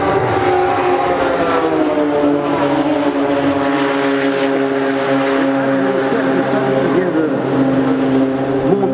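A steady, loud engine drone with strong harmonic whine and a talking commentator's voice mixed in, a Radical race car passing at speed nearby at Spa-Francorchamps.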